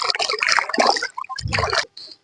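Something is washed with water in short, irregular bursts of splashing and sloshing, close and fairly loud, before it ends in brief quiet.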